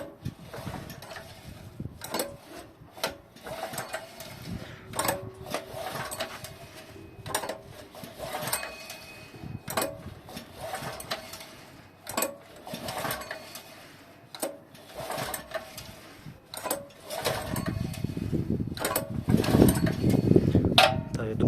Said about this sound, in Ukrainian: необхідно хоча б кілька разів подіргатись за цей шнурок